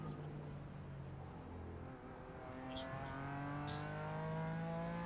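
Ford Mustang race car in iRacing closes in with a rising engine drone, revs climbing through gear changes and growing steadily louder as it approaches.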